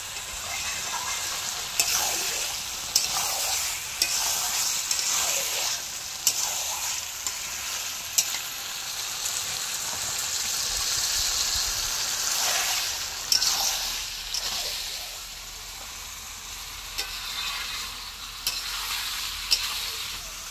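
Chicken curry sizzles and fries in a pan on a village stove, with a steady hiss broken by repeated scraping stirs of a spatula, close and clear and with no talking.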